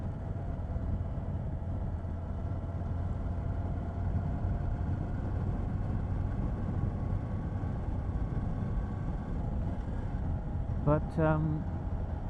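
A Moto Guzzi V11 motorcycle cruises at highway speed around 65 to 75 mph, a steady broad engine and wind roar holding throughout, with a brief voice near the end.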